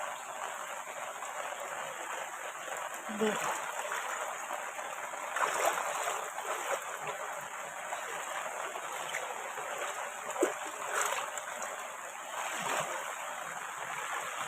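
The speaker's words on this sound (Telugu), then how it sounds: "కొద్దిగా ఫాస్ట్గా వెళ్తుంది నీరు" Rainwater rushes steadily through a drain channel cleared of debris during heavy, all-day rain, making a continuous close hiss and gurgle with occasional small splashes and no talking.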